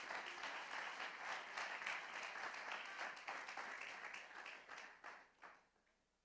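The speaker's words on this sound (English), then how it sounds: "Clap your hand if you understand that." A church congregation claps hands together in dense, sustained applause that stays steady, then thins and fades toward the end.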